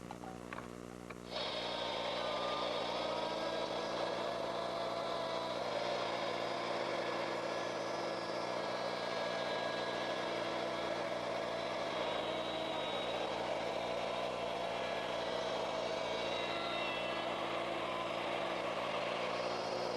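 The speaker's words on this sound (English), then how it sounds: "plug the router in, and it'll take a few passes because I want to take about 1/4 inch each time" An electric router spins up and cuts a circle in wood, taking several quarter-inch passes for an outdoor garden table, with a steady, sustained whine and hum that runs evenly after starting.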